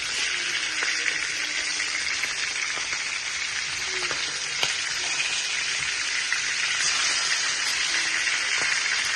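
Pieces of hilsa fish frying in hot oil in a pan, giving a steady, dense crackling sizzle that holds through the whole stretch, close and fairly loud, with a few faint clicks and no talk.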